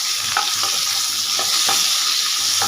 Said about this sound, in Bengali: এখন আমি পেঁয়াজগুলোকে হালকা করে নেড়ে চেড়ে লাল করে ভাজবো।